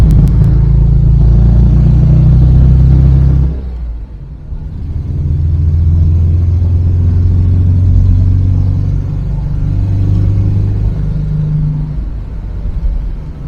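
A 1982 Volkswagen Gol LS drives along with a loud, steady low engine drone, briefly dropping around a gear change before pulling again and holding a constant rumble; no talking.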